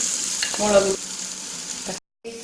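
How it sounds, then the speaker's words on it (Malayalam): Tomatoes sauté in a hot pan for a Kerala-style chicken roast, giving a steady close sizzle with brief stirring scrapes and a short silent gap near the end. "തക്കാളി നന്നായി വഴന്നിട്ടുണ്ട്"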